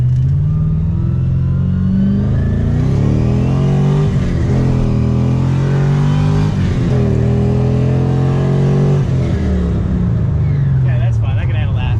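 A bone-stock Mazda RX7 with an LS1 V8 swap revs while driving on back roads, loud engine tones rising and falling through several gear pulls, heard from inside the car with occasional talk.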